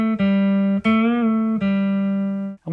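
Electric guitar plays the riff of a song, a few sustained, clearly picked notes with string bends that push the pitch up, loud and close with no voices.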